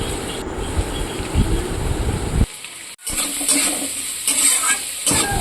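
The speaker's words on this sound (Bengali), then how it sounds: "তো অনেকটাই ভাজা হয়ে গেছে পেঁয়াজ আর লঙ্কাটা" Onion, chili and garlic fry in oil in a pan, a close crackling sizzle with stirring that drops out briefly and then returns strongly, without any speech.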